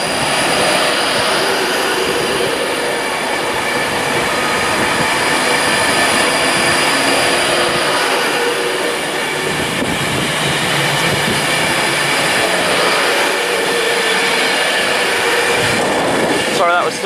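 A Class 390 passenger train, the City of Coventry, pulls out of Warrington Bank Quay station toward London Euston with a steady, loud rolling roar, electric whine and occasional wheel squeal, continuous for about seventeen seconds.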